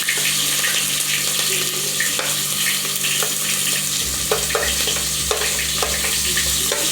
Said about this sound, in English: our oil is ready. We're just going to add our onion.